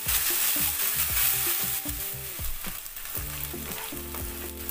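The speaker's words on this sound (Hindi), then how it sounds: "तो अदरक लहसुन भी फ्राई हो गया है" Ginger garlic paste fries with golden-brown onions in a pan for a chhole bhature recipe, giving a steady close sizzle and hiss with scraping stirring strokes throughout and no talking.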